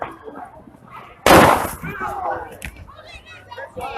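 Fireworks set off at police officers during a person-with-a-gun call amid a large gathered crowd: one loud, sharp close burst that crackles briefly and fades, with people talking and shouting around it.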